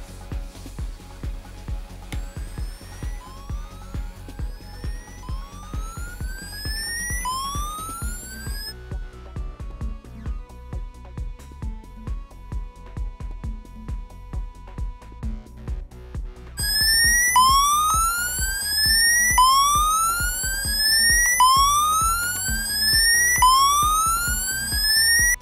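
A low voltage cable tester's tone probe gives off repeated rising electronic chirps, fairly close, with a lower steady hum between them. The chirps go quiet midway and return louder.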